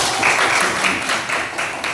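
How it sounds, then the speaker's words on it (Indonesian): A classroom of third-grade pupils claps together in steady, dense applause, close by and filling the space throughout with no talk over it. "Tepuk tangan."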